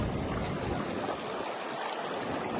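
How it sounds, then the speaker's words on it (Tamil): Rushing water flows at Point Pedro beach in Jaffna, with the current increasing during storm precautions. The broad, continuous wash of flowing water is loud and close throughout, and no voices are heard. "நேரம் செல்ல செல்ல வந்து தண்ணியோட வேகம் வந்து அதிகரித்து கொண்டே போகுது"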